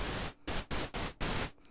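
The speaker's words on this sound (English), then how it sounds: "and make it pink noise" Pink noise from a synthesizer in Cubase, with its oscillators turned down, plays as five steady broadband hiss bursts separated by short gaps.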